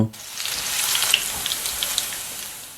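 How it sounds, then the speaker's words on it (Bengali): Chopped garlic frying in hot oil with cinnamon and bay leaf while cooking a simple mutton bhuna curry, giving a steady bright sizzle with small scattered pops, close and continuous, with no talking. "আমরা রসুন কুচি দিয়ে রসুনে কালার হওয়া পর্যন্ত ভেজে নেব"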